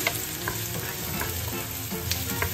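Anchovies with malunggay simmering and sizzling in coconut milk in a pan, a steady close bubbling hiss with faint stirring scrapes throughout, no voices.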